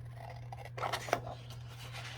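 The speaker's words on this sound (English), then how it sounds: "And then I'm just going to use my scissors." A few short snips of scissors cutting cardstock for a paper belly band, close and quiet, over a low steady hum.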